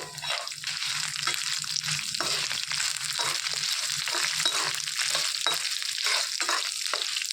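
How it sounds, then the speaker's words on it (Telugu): Cumin seeds and dried red chillies fry in hot oil for a ladakku-style okra chutney, giving a steady, close crackling sizzle with small pops and stirring scrapes throughout, no voices. "హాఫ్ టేబుల్ స్పూన్ జీలకర్ర ఇందులోనికి ఎండిమిర్చి కూడా వేసుకొని వేయించుకోవాలండి"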